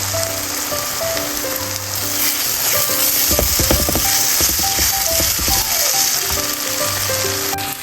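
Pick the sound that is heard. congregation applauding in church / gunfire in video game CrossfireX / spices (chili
spices (chili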